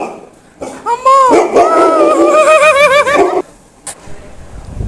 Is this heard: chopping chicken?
no